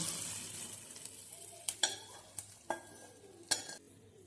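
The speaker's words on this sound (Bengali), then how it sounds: "মাংসের কড়াইটা বসিয়ে দিলাম, দিয়ে এই যে এটা নাড়াচাড়া করলাম এটা দিয়ে দিলাম।" Kadai chicken masala frying in a kadai while being stirred: a low continuous sizzle broken by a handful of sharp metallic scrapes and clinks of the spoon against the pan, close and fairly quiet, no talking.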